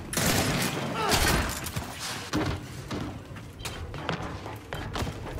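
Boomer launcher fire in the shooter game Gears 5: a loud, dense barrage of heavy thumping blasts with a few sharp bursts, dipping now and then but packed throughout, with faint voices in the mix.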